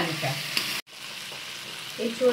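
Pre-fried jackfruit and potato pieces sizzle in a hot pan with spices while being stirred, a steady close crackle broken by a brief silent gap, then scraping resumes.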